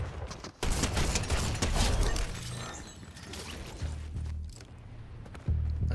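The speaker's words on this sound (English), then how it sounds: "I'm hearing more shots ring out" Gunshots in the video game Fortnite, loud sharp bursts and cracks with shattering debris, coming in irregular clusters over several seconds, with no talk.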